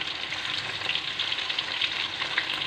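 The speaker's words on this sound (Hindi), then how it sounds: "इसको फ्राई करना है" Chicken frying in hot oil, a steady close sizzle and crackle that runs unbroken throughout with faint stirring, and no voices.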